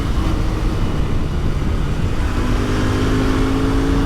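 A Royal Enfield Interceptor INT650 motorcycle roars loudly at high revs on a public road, a dense sustained engine and wind noise with rising harmonic tones as it holds near the limiter.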